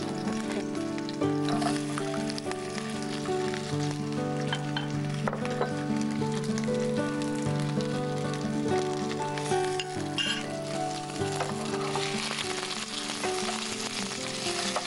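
Potato pieces fry in hot oil with chopped ginger and chilli, a loud, steady sizzle that runs throughout, with faint stirring and utensil clinks.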